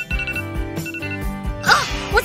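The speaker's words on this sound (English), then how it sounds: "Okay, let's shut off this alarm." A phone alarm rings in a repeating electronic bell-like pattern of bright pulses, loud and close, ending in a sharper burst of jangling tones.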